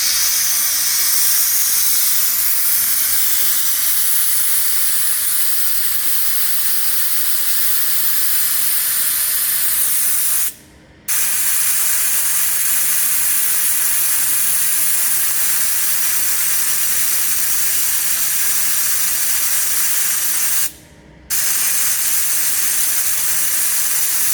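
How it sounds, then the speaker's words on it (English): A cheap portable air compressor inflates a tyre with a loud, steady hiss and motor drone running close and alone, cut by two brief pauses. "I had a little higher than that, just playing with the compressor there."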